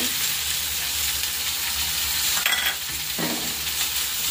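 Drumstick, ridge gourd and potato fry with turmeric in a pan, giving a steady broadband sizzle with a brief stirring scrape near the middle, close and unbroken, with no talk.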